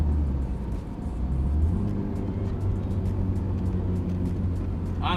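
Inside a car with 240,000 miles as it is driven, a steady low engine and road rumble hums continuously and evenly throughout.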